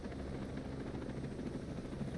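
Helicopter in the video game Ghost Recon Breakpoint, a steady loud rotor drone with dense low thudding that holds unbroken throughout, with no talk over it.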